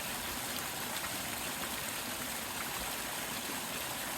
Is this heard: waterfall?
yes